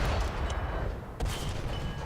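A T-35 tank's cannons fire in the video game War Thunder, with two heavy booming blasts, one at the start and one about a second later, each followed by a rumbling decay.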